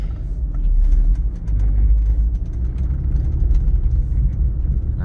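Porsche 911 Targa 4S with 76,153 miles on the odometer out on a test drive, its steady engine and road rumble loud and close throughout, a constant low drone with no talking.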